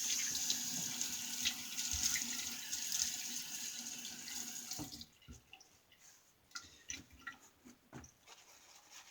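A bathroom tap runs steadily into a sink for about five seconds while a face is wetted before shaving, then shuts off, leaving scattered drips and soft splashes of water from hands.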